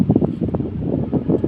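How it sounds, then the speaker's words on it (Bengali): Wind gusts across the Jamuna riverbank, buffeting the microphone in a steady low rumble with irregular surges, close and fairly loud, with no voices. "অসাধারণ হাওয়া দিচ্ছে, এত সুন্দর হাওয়া দিচ্ছে"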